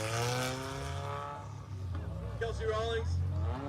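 A deep, steady engine of a former pro race car rumbles loudly throughout, close by, with people talking over it at Haltech HyperFest 2023.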